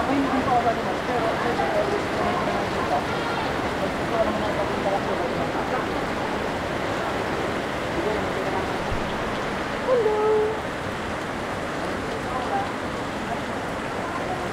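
Heavy rain pours down at Yoki's Farm, a dense, steady wash of falling water close around the listener, with a few brief sounds rising through the downpour.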